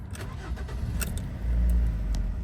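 A Ford C-Max with a 1.8 petrol engine cranks with a few short starter clicks, then catches and settles into a low, even idle, close by and fairly quiet.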